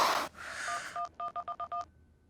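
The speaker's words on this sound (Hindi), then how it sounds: "और फोन करके देखती हूँ" A short burst of noise, then a quick run of about seven keypad dialing beeps in close succession, fairly faint and alone.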